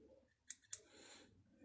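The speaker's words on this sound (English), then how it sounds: "I use my curved scissors" Two quick, sharp snips of curved scissors cutting hard plastic close by, followed by a soft scraping rustle, faint overall with quiet before and after.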